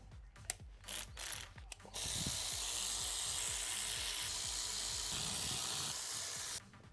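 A ratchet works on 13 mm housing bolts of a BMW E46 engine: short bursts of close, quick pawl clicking, then a long steady hiss that cuts off near the end.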